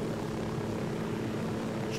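Helicopter in Ghost Recon Wildlands flying with a steady, droning rotor and engine rumble, a continuous close hum that stays even for the whole brief moment with no talk over it.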